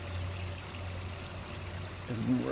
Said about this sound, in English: I like this water dripping down the rocks, down the stones here, the bricks on the side.